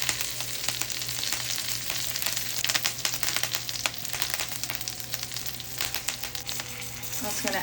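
Pan-roasted chicken pieces, flipped and joined by garlic and thyme sprigs, sizzle and crackle steadily in a hot pan. The frying hiss is close and continuous, with sharp pops throughout and a low hum beneath.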